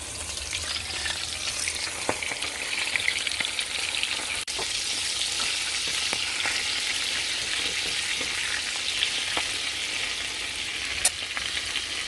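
Buttermilk-marinated chicken leg pieces fry in hot oil over medium-high heat, a steady, bright sizzle and crackle running throughout with occasional small pops, close and even, with no talking.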